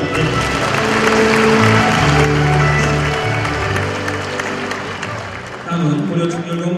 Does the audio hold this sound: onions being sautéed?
no